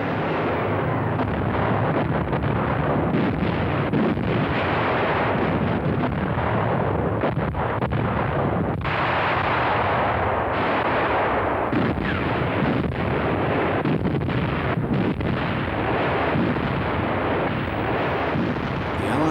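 German artillery batteries of World War II fire a heavy barrage, a dense continuous roar of blasts and rumbling detonations that stays loud throughout with no voices.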